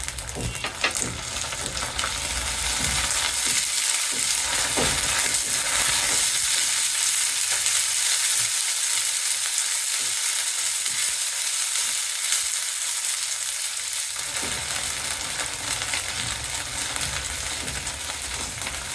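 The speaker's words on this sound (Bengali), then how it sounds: "পেঁয়াজটা গোল্ডেন ব্রাউন হয়েছে, এখন আমি এর ভিতরে দিয়ে দিচ্ছি 2 টিস্পুন আদা রসুনের পেস্ট।" Ginger garlic paste fries with golden brown onions in a pan, giving a loud, steady sizzle with intermittent stirring scrapes throughout, no voices.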